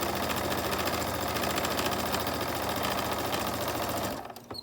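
A sewing machine runs steadily, stitching a fabric face mask with a dense, continuous mechanical whir that stops abruptly just before the end.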